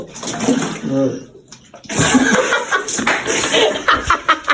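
Water splashes and pours over a body in uneven gushes, with people talking and chuckling nearby, close and fairly loud.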